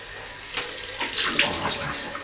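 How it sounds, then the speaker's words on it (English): Cold tap water runs into a sink for rinsing after a shave, a brief splashing gush starting abruptly and flowing steadily at close range. "Oh, cold water rinse now."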